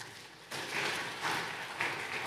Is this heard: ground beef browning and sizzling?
no